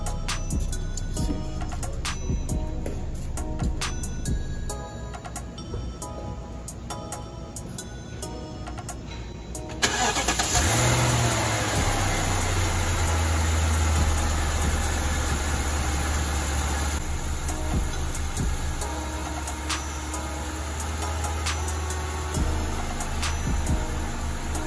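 BMW engine, just refitted with its mass air sensor, cranking to life and settling into a steady idle, with a cooling fan whirring loudly alongside throughout.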